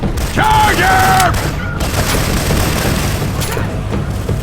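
Syphon Filter weapon sound effects firing in Left 4 Dead 2, a burst of booming shots with metallic mechanism clatter and ringing tones, loud and close, then ongoing rumbling action noise.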